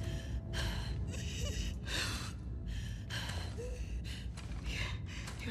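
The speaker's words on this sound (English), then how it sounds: "Your breathing's worse." A wounded character in The Last of Us Part II breathes in labored, ragged gasps and wheezes, about eight heavy breaths in a steady rhythm, close and loud over a low background rumble.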